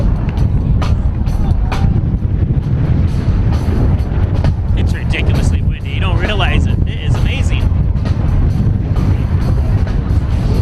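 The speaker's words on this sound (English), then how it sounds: "It's ridiculously windy." Strong wind roars against the microphone at a high school varsity football game between Hornell and Geneva, a loud, steady low rumble that buffets throughout, with a commentator's voice faintly underneath.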